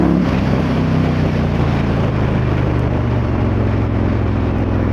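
An Indian FTR1200 motorcycle engine runs loud and close, a continuous throaty roar with shifting pitch under heavy wind rush, as if riding at speed.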